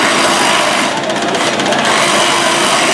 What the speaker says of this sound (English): Birmingham's using a Sawzall, just a standard one like you have at home, with a metal blade on it, and it'll cut right through that A post really fast.